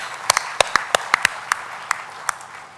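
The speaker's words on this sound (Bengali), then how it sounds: "তাদের উদ্দেশ্যে আমরা একটা হাততালি দিই।" A book fair audience gives scattered, separate handclaps, about a dozen sharp claps spaced irregularly over a few seconds rather than a dense roar, with a faint crowd murmur beneath.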